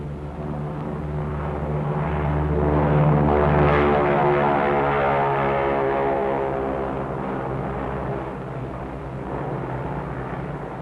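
A B-29 bomber drones overhead, its deep throbbing propeller engines swelling in the middle and then slowly easing off.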